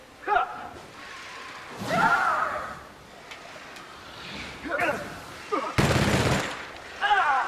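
The player's gun firing in the video game The Outer Worlds, several separate bursts spaced a second or two apart with one loud blast near the end, and someone talks between shots.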